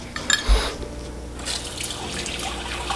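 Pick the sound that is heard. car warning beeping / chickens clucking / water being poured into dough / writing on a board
water being poured into dough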